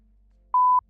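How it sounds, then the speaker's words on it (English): A censor beep during a livestream, a single steady pure tone lasting about a quarter second, clean and loud over near silence. "You should have let me use the beep."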